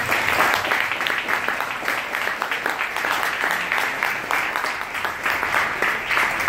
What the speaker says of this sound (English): Let's give a big round of applause to our boys.